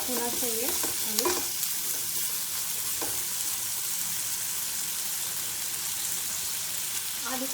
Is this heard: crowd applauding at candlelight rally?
no